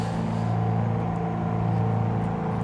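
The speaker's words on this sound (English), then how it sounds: "they did improve the engine sounds" A PA44 Seminole twin-engine piston aircraft in Microsoft Flight Simulator 2020 drones steadily throughout, a continuous loud engine hum with a low rumbling tone and no pauses, with no voices.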